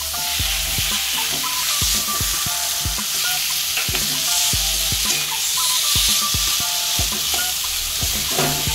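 Fried prawns are stirred into a sizzling potol dorma filling in a pan, with a spatula scraping in quick repeated strokes over a constant close frying hiss and no talk.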